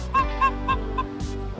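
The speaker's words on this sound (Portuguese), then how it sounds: "Aqui ó, os patinhos, os gansos." Geese honk by a lake at a campground, with ducklings nearby. About four short, nasal honks come in quick succession, close and fairly loud, over a steady low hum.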